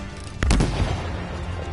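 A single gunshot fired in the video game Anthem: one sharp, loud bang with a low, booming tail fading over the next second against steady game ambience, no talking.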